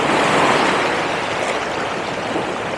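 Ocean surf breaking on a beach in Phuket, Thailand, a broad, continuous wash of water heard close and fairly loud, swelling slightly at the start and then rolling on steadily.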